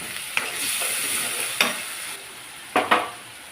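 Potato and soybean masala sautés in a pan over a steady low sizzle, with three or four sharp scraping stirs spaced irregularly and heard close up.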